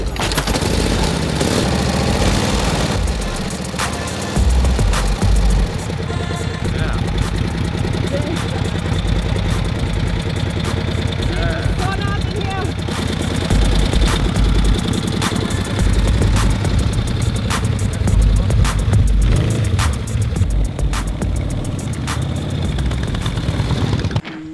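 A motorbike engine runs steadily throughout while riding on roads around Damansara, a continuous mid-pitched drone with wind rush, with occasional talk over it.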